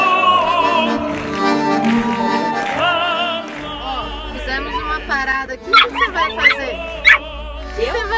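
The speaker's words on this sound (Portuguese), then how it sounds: "Ela tá brava que tem cachorro lá fora." A dog indoors barks and whimpers in agitation at another dog outside, giving sharp yips and whiny cries that grow louder toward the end, heard over a background of music and people talking.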